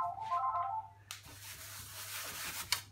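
A telephone rings briefly in a home kitchen during bread making, a short burst of electronic ringing tones in the first second, followed by soft rubbing and handling noises at close range.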